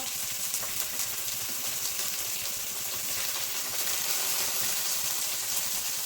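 Onion, chili, peanuts, garlic, coconut, coriander and tomato frying in a pan, a dense, even sizzle that holds steady throughout with faint stirring scrapes underneath.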